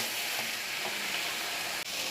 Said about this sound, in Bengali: গোলমরিচ গুঁড়োটা দিয়ে আমি কিছুক্ষণ একটু নেড়ে চেড়ে নেব